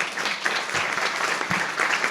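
An audience applauds in a room, a brief, dense patter of clapping from many hands at moderate volume.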